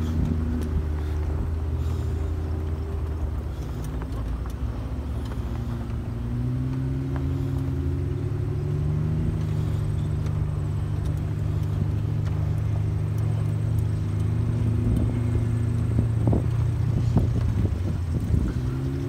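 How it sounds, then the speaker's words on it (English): Engines of dirt bikes drone on a trail near a coal pit, layered with the rumble of a nearby vehicle's motor and wind buffeting. The tone rises and falls in long sweeps as the bikes approach, with a few rattling knocks late in the clip and no voices. "Sounds like there's dirt bikes coming at you on the right."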